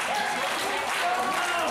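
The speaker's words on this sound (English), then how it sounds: "The crowd getting solidly behind Will White." Wrestling crowd at a Strong Style event cheering and applauding for Will White, a dense, steady wash of clapping and cheers from a large audience, with voices mixed into the din.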